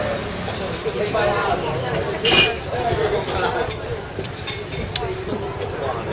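A brief bright clink of wine glasses rings out once amid steady background chatter and murmuring voices at a harbourside spot in Kefalonia.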